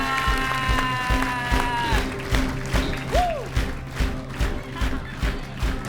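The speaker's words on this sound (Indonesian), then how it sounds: "Tepuk tangan" An audience applauds during a prize ceremony on a comedy stage show as second place is called, a steady wash of clapping under music and a few voices.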